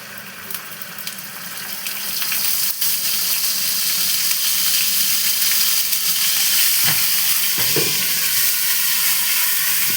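Ginger paste sizzles and fries in a five-spice tempering for Bengali shukto, a steady close hiss that swells louder after the first few seconds, with a few soft stirring knocks and no voices.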